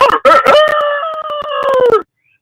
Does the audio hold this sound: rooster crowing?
yes